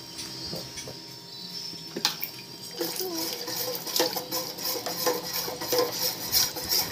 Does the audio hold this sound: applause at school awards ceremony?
no